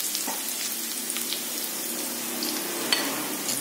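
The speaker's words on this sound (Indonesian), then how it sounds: "Pertama bawang putihnya kita akan tumis. Ya. Ini kita tumis sampai wangi." Garlic sautéing in a pan for Chinese-style fried noodles makes a soft, even hiss of frying oil with a few faint crackles, fairly quiet and unbroken.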